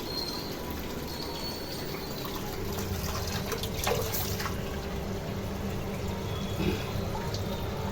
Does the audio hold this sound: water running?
yes